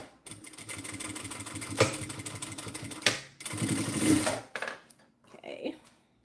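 A sewing machine stitches a faux belt loop on a bag during a live sewing challenge, running in a few uneven bursts of steady whirring with short pauses and a clunk in between, fairly close.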